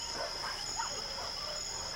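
Dogs bark at night in a mountain valley in Puerto Rico, faint and distant, with a few scattered yelps under a steady background hiss.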